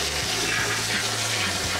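Water sprays from a pressure nozzle into a tank to dissolve sugar and molasses for rum making, a loud, steady, close rushing hiss under a low rhythmic mechanical thumping.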